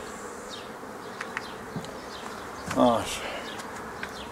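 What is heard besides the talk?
honeybees buzzing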